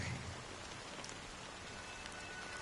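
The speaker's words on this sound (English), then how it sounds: "But it's still raining." Steady rain falling in the video game Honkai Star Rail, a dense, even hiss of drops on surfaces that holds at one level throughout, with no voices.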